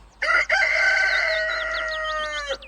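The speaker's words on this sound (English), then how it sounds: "This is a rooster." A rooster crows once, a loud, close, drawn-out cock-a-doodle-doo with a sharp rising start and a wavering, strained finish, heard alone without talk.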